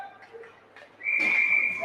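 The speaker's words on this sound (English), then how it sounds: "Whistle." A referee blows a sharp, sustained whistle blast at a youth 10U ice hockey game, loud and close after a second of quieter rink noise.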